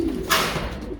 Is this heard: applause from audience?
no